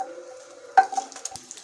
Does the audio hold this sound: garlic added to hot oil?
yes